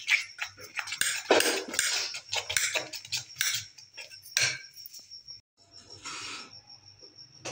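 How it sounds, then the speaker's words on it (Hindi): A fork whisks and clinks rapidly against a bowl as cake ingredients are mixed, busy close scraping and tapping in bursts that pause briefly near the middle before resuming more softly. "ये मिक्स करना है, ये कांटे के साथ मिक्स हो रहे हैं।"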